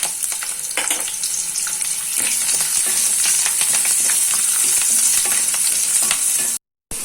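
Whole spices with ginger and garlic fry in hot oil for a Punjabi chicken curry, giving a loud, steady sizzle with frequent scraping stirs throughout. A brief dropout comes near the end.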